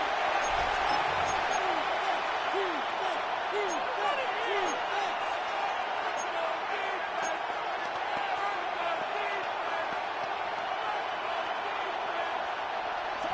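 Steady, loud stadium crowd roar fills an EA Sports NFL video game broadcast of a Rams vs Raiders matchup, a dense wash of noise that holds evenly throughout with faint voices blended in.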